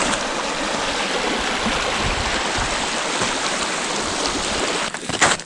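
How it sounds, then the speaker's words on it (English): A winter mountain stream on Cat Mountain flows in a steady, broadband rush of water. It stays close and constant throughout, with a brief shift in texture near the end. "More water flowing."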